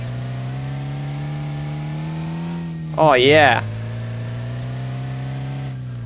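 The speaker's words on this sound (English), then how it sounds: "Let me start up the engine. It's got a nice diesel-sounding engine." Diesel car engine in Arma Reforger idling steadily, with a short rising rev burst around the middle before settling back to idle; a voice speaks briefly.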